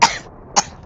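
A cough and a throat clearing from a gamer playing McPvP Capture the Flag, one burst at the start and a second shorter one just over half a second later, close and fairly loud, no talking.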